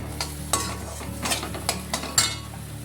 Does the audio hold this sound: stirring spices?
yes